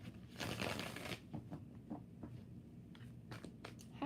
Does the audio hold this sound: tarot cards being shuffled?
yes